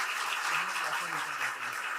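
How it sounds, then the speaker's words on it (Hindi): Audience applause at a government appointment letter distribution ceremony hosted by a chief minister, a steady wash of clapping from a large crowd, with a voice speaking faintly underneath. "तो सबसे पहले तालियां आपकी होनी चाहिए"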